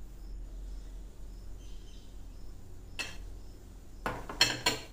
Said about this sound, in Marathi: मी 12 ते 13 चम्मच मिश्रण हे काढून घेते वेगळं असं